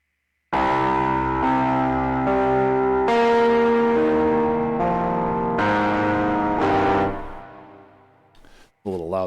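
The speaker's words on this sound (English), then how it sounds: "It's always fun to run this stuff through distortion." Synth notes run through a distortion effect in Ableton, a loud buzzing, gritty sustained tone changing pitch in blocks over several seconds before cutting off, with a short burst at the end.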